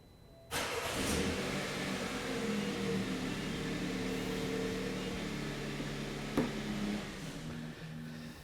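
A BMW fitted with a Eurostart remote starter fires up on command from a phone app, a sharp crank catching into a steady, fairly close idle that holds evenly, with a brief bump partway through and no voices.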